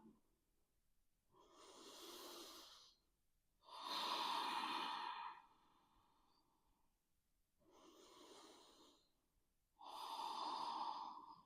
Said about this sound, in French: Respire ici dans cette posture.